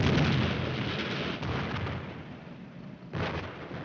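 A tank's 90mm main gun fires in a 1951 war film battle scene, a loud, booming blast at the start that rolls off into rumble, followed by a second heavy burst near the end, with no speech.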